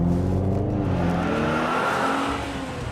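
A Ferrari California's engine drones loudly and steadily up close from inside the moving car, the pitch slowly shifting as it drives along.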